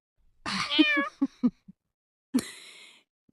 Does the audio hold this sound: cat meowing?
yes